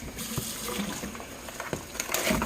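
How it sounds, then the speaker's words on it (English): Tap water runs over pork chops being rinsed in a sink, a steady close splashing stream with small irregular splats and drips throughout and no talk. "Go ahead and rinse these off."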